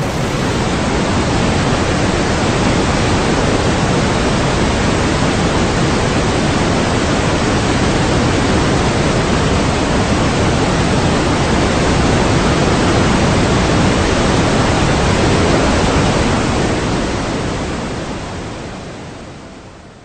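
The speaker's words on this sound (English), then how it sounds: "There's a variation of white noise called pink noise." Pink noise test signal played loud and steady as a broad, even hiss like rushing surf, holding for most of the stretch before slowly fading at the end, with no voices.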